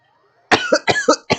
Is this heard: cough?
yes